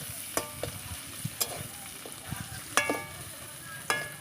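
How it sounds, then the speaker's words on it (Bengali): Onions frying over low heat in a pan for hechra give a gentle sizzle, broken by a few sharp clicks and scrapes from a stirring spoon at uneven intervals. "এখন পেঁয়াজ কষানো হচ্ছে, হালকা আঁচে পেঁয়াজটা কষিয়ে নেব।"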